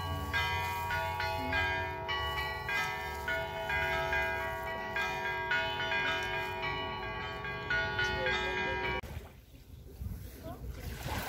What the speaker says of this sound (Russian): колокольчики.